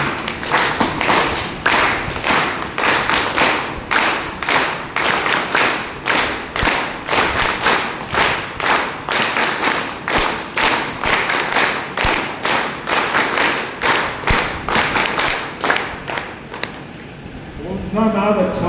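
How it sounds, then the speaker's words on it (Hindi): Audience at a family awareness gathering in Pathankot claps together in a led rhythm, with loud, evenly spaced beats continuing for about sixteen seconds before ending, followed by a brief voice. "अभी तालियां बजाना है, लेकिन जैसे मैं बजाऊंगा वैसे बजाना"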